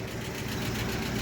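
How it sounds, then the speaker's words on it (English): A 1968 Jeep Wagoneer engine idles steadily after running for some time, a close, low, even rumble with a faint ticking texture and no talking. "It's been sitting here idling for a while and running for the past 15 or so minutes."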